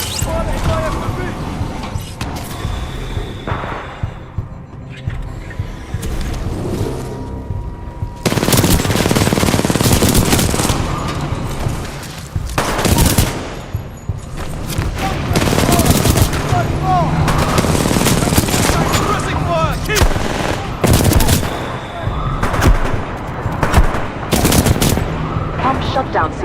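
Automatic weapons fire in rapid sustained bursts during a Titanfall 2 campaign battle, loud and dense over rumbling effects, with game voices talking at times.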